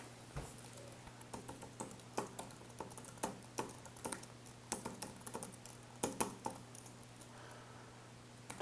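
Faint, irregular clicks of typing on a computer keyboard, with scattered keystrokes and short bursts over a low steady hum, and no voices.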